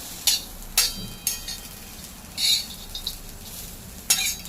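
Ridge gourd peels for chutney being reheated on a griddle: a few sharp scraping and stirring scrapes over a low, steady sizzle, spaced irregularly and close by, with no voices.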